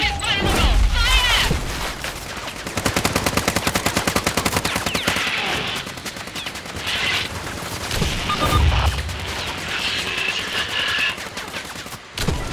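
Rapid gunfire in the shooter Caliber during a forest special operation with a sniper, a dense rattling burst of shots with booms and crashes, loud and close, with a voice shouting over it.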